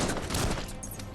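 Gunfire from the video game Biomutant comes as a short burst of rapid shots that fade out within about a second.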